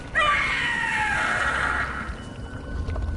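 The Howler creature in the video game Dragon Age: The Veilguard lets out a loud, piercing, drawn-out scream that rings for about two seconds before fading, with low rumbling underneath.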